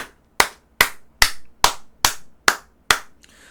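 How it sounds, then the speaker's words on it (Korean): Seven sharp, evenly spaced hand claps ring out one after another at a slow, deliberate pace, each crisp and close with a short decay, before the sequence stops. "박수 한번 치시죠."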